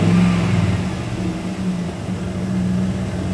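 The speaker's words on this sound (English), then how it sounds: "let me blip the throttle a few times." A 2001 Dodge Dakota with the 4.7L engine idles steadily with a low droning hum, with no clear rev surges, close up and without talk.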